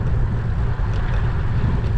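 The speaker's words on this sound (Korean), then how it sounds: "지금 맞바람이 불고 있고 야구르마으로 지속됩니다." Steady, roaring headwind buffets the microphone of a cyclist riding a road gran fondo in Samcheok on a hot day, a continuous, loud, broadband rush with no pauses and no talk.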